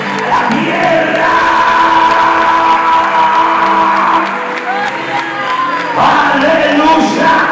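A church congregation at a Spanish-language sermon claps, cheers and shouts together in a loud, sustained crowd roar, with voices calling out over it throughout.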